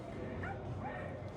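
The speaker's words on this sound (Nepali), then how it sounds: "कुकुर पनि भोकिरहेको छ नि त्यहाँ" A dog barks and yips faintly in the distance at a maritime museum, the short bow-wow calls sitting low beneath nearby people talking.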